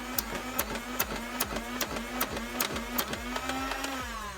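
A 2015 BuzzBee Brute battery-powered toy blaster on four AA batteries fires on full auto: a motor whirs steadily under a rapid, even series of about ten sharp clicking shots, close and moderately loud.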